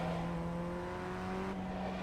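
A Ray FF1600 race car in iRacing, on the Oulton Park circuit, with the engine held at a steady high drone and a faint upward pitch glide under throttle, and no talking.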